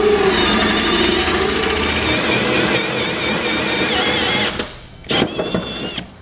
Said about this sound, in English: We'll now need to drill 4 holes using a 2-inch hole saw.